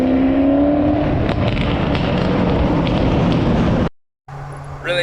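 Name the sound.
Fox body car exhaust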